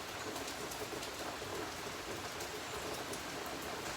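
Steady rain falls on a rainy day as a dense, even hiss with small drop patters, constant and unbroken throughout, with no voices.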